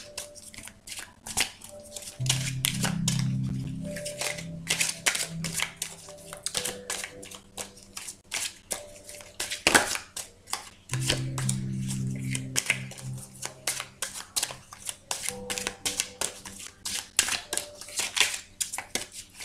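Tarot cards being shuffled for a daily reading, a papery riffling and slapping that comes in two longer bursts between scattered soft card taps and handling sounds, close and fairly clear with no talking.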